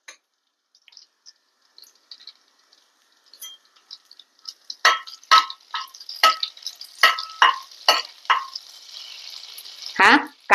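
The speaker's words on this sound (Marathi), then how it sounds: "कांदा जरा परतवून घेते." Finely chopped onions, three of them, go into hot oil with slit green chilies for paneer bhurji; a quiet start gives way to a run of sharp sizzling bursts and clinks of stirring, close and fairly loud, ending with a louder scrape.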